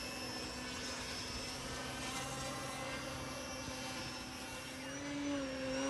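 An E-flite 4-Site 3D flat foam RC airplane hovers on its electric motor, giving a steady, thin whine that holds level, then rises in pitch and swells slightly near the end.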